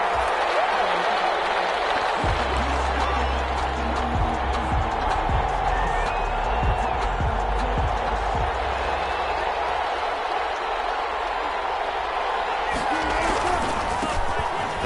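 Stadium crowd cheering in an NFL video game on PS4 before a Seattle Seahawks versus Detroit Lions matchup, a steady wide roar throughout with thumps and bursts, while a commentator's voice talks over it.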